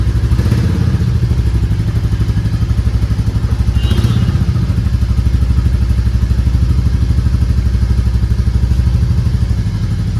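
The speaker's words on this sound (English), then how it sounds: "this is a raw sound, stock silencer. This is how it sounds like." A Royal Enfield Classic 350 with its stock silencer runs steadily at idle. The exhaust gives a loud, close, continuous thumping beat with a clattery mechanical edge throughout.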